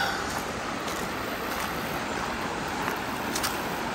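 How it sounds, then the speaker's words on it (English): The Mulberry River in the Ozark National Forest flows as a steady, broad wash of water over a faint rumble, continuous and even throughout, with no voices. "Mulberry River, folks."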